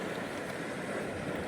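Waves breaking on a reef near Motuihe island in a leftover swell after an easterly storm, a continuous broad wash of surf with no distinct individual crashes.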